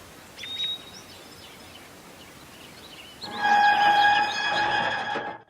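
A storybook sound effect of a train screeching to a stop: a faint whistle-like squeal early on, then a loud, sustained metallic screech of braking wheels that tapers off and cuts out.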